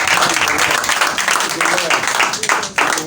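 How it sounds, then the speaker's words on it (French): A church congregation applauds, a steady dense clapping that fills the whole stretch, loud and close, with voices mixed in. "Il faut applaudir."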